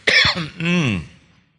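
A single raspy cough, then a longer throat-clearing rasp, loud and close, alone before fading out.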